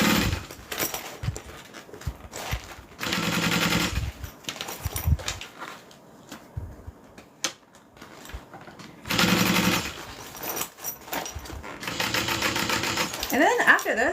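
A sewing machine stitches a bag in loud, rapid mechanical runs that start and stop, close up, and a person talks in between the stitching bursts.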